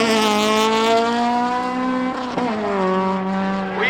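Cars launching in a spectator drag race at Oxford Plains Speedway, a loud, close engine roar with strong harmonic tone that climbs, dips sharply at a gear change midway, then pulls again.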